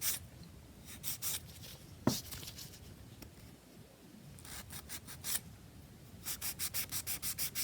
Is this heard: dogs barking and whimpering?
no